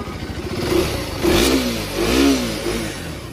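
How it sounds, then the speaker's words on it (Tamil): A 2025 KTM Duke 390 motorcycle revs its exhaust up and back down three times in a row, the engine note rising and falling in close, loud swells with no talking. "அண்ட் எக்ஸாஸ்ட் நோட் கேளுங்க"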